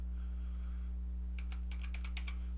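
Quick keystrokes on a computer keyboard, a short burst of about eight to ten clicks in an irregular rhythm, close by over a steady low electrical hum.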